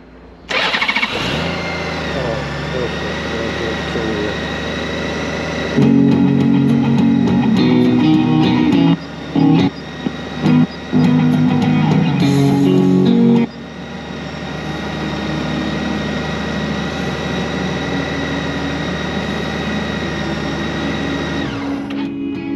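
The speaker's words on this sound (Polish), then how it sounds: "Myślę, że odpalimy na chwilę motocykl" A Honda GoldWing 1800 motorcycle engine cranks and starts during a coolant change, then idles steadily with a louder, rougher stretch of revving in the middle before settling back to a smooth idle.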